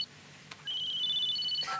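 A telephone rings with short electronic warbling tones, close and clear in a quiet room, one ring lasting about a second.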